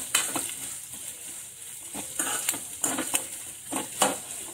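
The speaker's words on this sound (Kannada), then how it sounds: "ಈರುಳ್ಳಿ ಹಾಕ್ತಾ ಇದ್ದೀನಿ. ಇದನ್ನ ಚೆನ್ನಾಗಿ ಫ್ರೈ ಮಾಡ್ಕೊಳ್ಳೋಣ." Onions frying in a pan, a quiet steady sizzle punctuated by several scraping, clinking stirs from a utensil.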